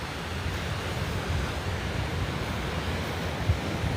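Ocean surf washing steadily onto La Jolla beach near the Children's Pool, a continuous broad rushing roar with some wind buffeting the microphone and no voices.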